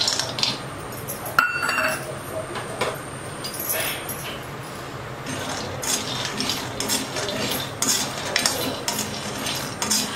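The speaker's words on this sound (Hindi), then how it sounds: "मूंगफली सूखा ही भूजेंगे।" Peanuts dry-roast in a hot kadai with no oil while a spoon stirs them. Close metallic scrapes and clinks come at an irregular pace, and small hard rattles sound as the nuts tumble against the pan, with no voice.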